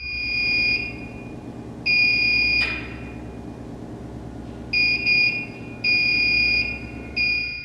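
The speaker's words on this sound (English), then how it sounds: "A Steadicam captures the sound as the alarm continues to ring out." Alarm ringing in a locker room, a loud electronic buzzing tone in repeated bursts of about a second with gaps between, plus a brief bang partway through.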